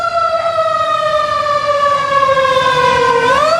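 A loud siren wails close by at an outdoor rally, its tone sliding slowly downward and then sweeping back up, heard alone without any talk over it.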